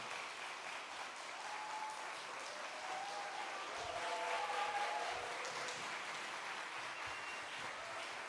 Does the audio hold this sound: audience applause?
yes